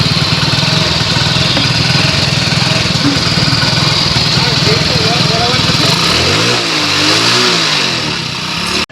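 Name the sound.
Hero Splendor Pro motorcycle engine idling with timing chain noise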